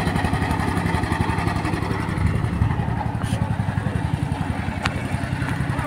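A fishing boat's engine putters steadily on a river as the boat heads toward the landing, a loud, close, rapid rhythmic chugging that never lets up.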